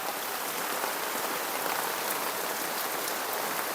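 A downpour of heavy rain drums continuously on surfaces nearby, a thick, unbroken wash of spattering drops throughout.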